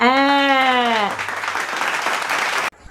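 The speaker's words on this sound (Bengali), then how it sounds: "সবাই তালিয়া তালিয়া তালিয়া তালিয়া" An audience applauds: a held tonal note opens, then a dense wash of clapping carries on for a couple of seconds before it cuts off abruptly.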